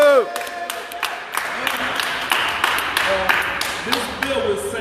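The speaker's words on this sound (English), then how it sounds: "Let's give them a hand of applause." Scattered clapping and some cheering from a small crowd at an outdoor press conference about a wrongful convictions bill, uneven and mixed with brief voices and background noise.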